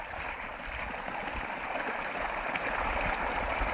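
Water in a stream flows steadily, a constant hiss and rush with no break, steady and moderately close; no speech is heard.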